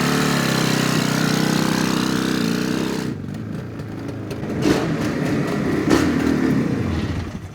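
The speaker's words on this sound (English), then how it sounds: "This is a twin-cylinder 2-stroke classic bike that's been completely refurbished, and it runs great" A refurbished 1971 Suzuki T500 Titan classic motorcycle with a two-stroke twin-cylinder engine runs steadily, loud and close. Its tone drops partway through to a rougher idle with a few small rises in revs.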